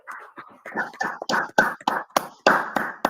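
A men's brotherhood class claps in a loose, uneven rhythm. The handclaps are distinct and close, with irregular gaps between them, over a low background of voices.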